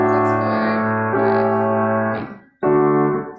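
A half-diminished seventh chord rings out in a music theory demonstration, moving through a second sustained chord before resolving to the five chord after a short gap, loud and close with no talking.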